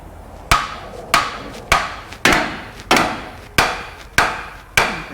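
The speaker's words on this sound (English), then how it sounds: "You better get a bigger hammer." Eight heavy hammer blows on a stuck suspension part of a 2012 GMC 4x4 truck at a steady, deliberate pace, each a sharp loud strike with a brief ringing decay, close by.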